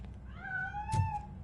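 A cat gives a single drawn-out meow, fairly faint against a low background hum, with no talking.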